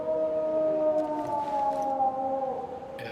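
A person imitates howling with a long, wavering, siren-like vocal tone that slowly drifts downward, heard alone at moderate loudness.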